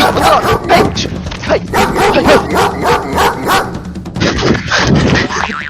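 A big dog barks loudly and close in a rapid, steady series of deep woofs, with excited voices mixed in among the barks.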